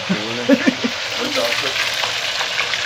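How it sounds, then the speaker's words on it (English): Fish frying outdoors by a river gives a steady sizzling crackle throughout, with a few brief voice-like sounds near the start sitting on top of it. "Frying some fish."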